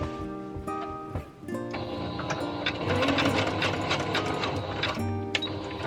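A sewing machine runs a zigzag stitch through fabric for a bowl cover, a close, rapid mechanical whirring and ticking in short bursts that starts and stops, then one longer run.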